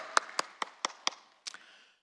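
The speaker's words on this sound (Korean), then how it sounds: "할렐루야 우리 하나님께 영광의 박수 올려드립니다" Hand claps during a church service, about five crisp, evenly spaced claps followed by a quick double clap. They ring clearly with no talk over them, then fade into silence.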